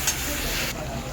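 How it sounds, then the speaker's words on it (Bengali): Potato and papaya curry with spices and water being stirred in a pan, a soft steady scraping and bubbling sizzle that continues alone at low level for about a second. "আলু আর পেঁপে, জল সব কিছু একসাথে ভালোভাবে নাড়িয়ে চাড়িয়ে নেব।"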